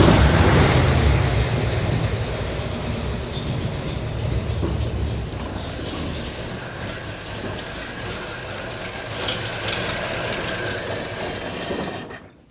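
1952 Chevy Styleline engine running after fuel system cleanup, a steady, loud, close broadband rumble and rush that holds for about twelve seconds before cutting out at the end.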